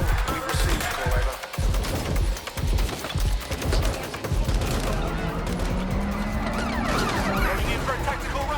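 Chaotic gunfire in the video game Watch Dogs Legion, rattling bursts mixed with a rising siren and dense combat noise, loud and continuous throughout.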